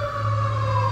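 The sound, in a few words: fire engine siren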